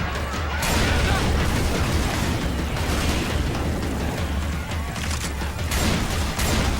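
Sustained booming gunfire and explosions from a zombie shooter game at a construction site, a dense continuous barrage filling the whole stretch, with a player's voice talking over it.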